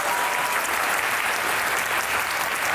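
Studio audience at a talk show applauding to welcome the guests, with dense, sustained, loud clapping from many hands that fills the whole moment without a break.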